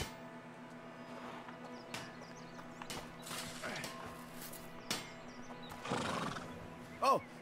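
A horse whinnies near the end after scattered hoof clops and faint background sounds, with voices talking quietly in places, in the video game A Plague Tale: Innocence.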